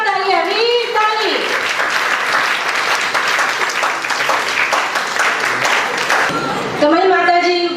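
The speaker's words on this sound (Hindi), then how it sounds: "जोरदार तालियां, वीर ताली।" Loud, sustained applause fills a hall at a girls' training camp prize announcement, steady clapping from a crowd for several seconds, with a voice speaking before and after it.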